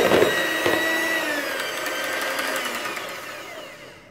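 Electric mixer whirring steadily as it beats cake batter with vanilla, a loud close motor whine that slowly fades down toward the end, no talking.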